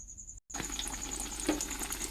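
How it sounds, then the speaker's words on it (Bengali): Potato chops fry in hot oil, giving a soft, steady sizzle with scattered crackles and pops after a brief silent gap at the start. "চপ ভাজছি"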